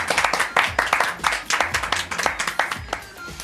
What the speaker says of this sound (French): Joyeux anniversaire à la maman de Sabrina qu'on peut applaudir